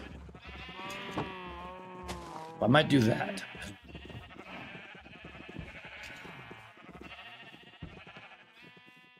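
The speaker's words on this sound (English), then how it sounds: "Let's see if I can feed the cows here again." Minecraft farm animals mooing and bleating on a farm in a hardcore game: several short, close calls cluster midway, heard alongside someone talking over faint game sounds.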